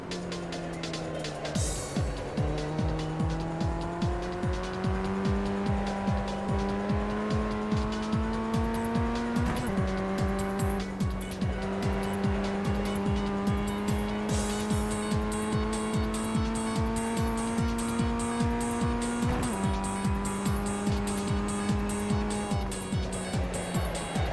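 A Ray FF1600 race car laps Summit Point with its engine loud and close in the cockpit, revving steadily through gear changes. Tires squeal through the corners and a brief voice comes in at one point.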